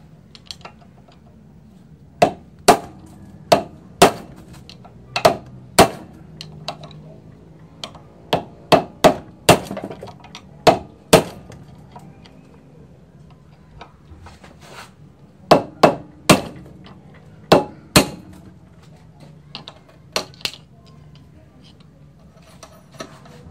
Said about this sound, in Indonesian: kalaupun nggak punya tinggal pakai palu dan obeng min ya